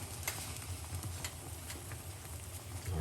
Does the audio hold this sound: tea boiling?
yes